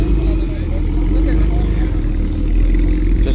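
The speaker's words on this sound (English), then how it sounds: "Damn, you can hear the turbo through that thing." A turbocharged car engine rumbles and revs close by, deep and steady with a faint whistling turbo whine over the low roar.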